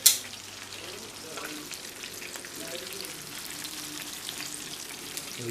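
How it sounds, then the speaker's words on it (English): Spring rolls fry in hot oil with a steady, crackling sizzle. A sharp click opens the sound, followed by a dense hiss that stays even throughout. "we'll continue frying our spring rolls"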